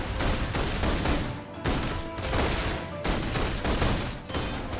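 Rapid bursts of gunfire from the video game Love and Deepspace, loud and continuous volleys with brief gaps between clustered shots, with no talking.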